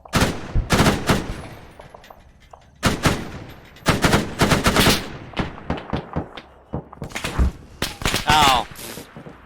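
Rapid bursts of gunfire from the video game Arma 3 crackle loudly in clusters, with a voice speaking in between the volleys.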